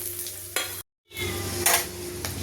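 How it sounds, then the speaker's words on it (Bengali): Dry red chillies, white cumin and whole garam masala sizzle in hot oil for tempering, with a loud, close crackle and stirring scrapes. The sound cuts out to silence for a moment, then resumes. "সঙ্গে দিচ্ছি তিন চারটে শুকনো লঙ্কা আমি এখানে সাদা জিরেও নিয়েছি ফোড়নের জন্য এবার দিয়ে দেবো পরপর গরম মশলাগুলো"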